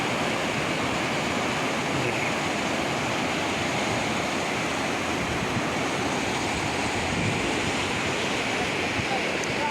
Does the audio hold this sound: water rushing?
yes